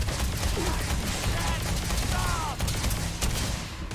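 Stun guns and an EM rifle fire in a Starfield firefight, a dense, continuous barrage of rapid electric shots with whirring sweeps, steady and loud throughout.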